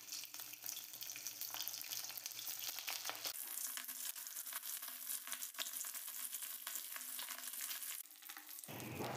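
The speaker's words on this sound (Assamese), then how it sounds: "মাছখিনি ধুনীয়াকৈ ভজা হৈ গৈছে" Fish fry in hot mustard oil in a wok, giving a steady, dense sizzle and crackle that runs without a break and sits close and fairly loud.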